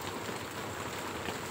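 Steady rain falls through an outdoor vegetable harvest, a continuous soft broadband hiss of drops on leaves and surfaces, fairly faint and even throughout with no voices.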